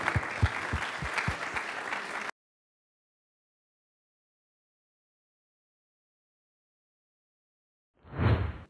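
An audience at an export-themed event claps steadily for a couple of seconds, then a long silence follows before a brief muffled burst at the end.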